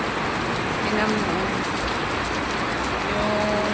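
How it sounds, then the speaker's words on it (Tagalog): Heavy rain pours steadily in a dense, even hiss with no breaks, recorded close by and fairly quiet, with faint voices in the background. "Lakas na ulan."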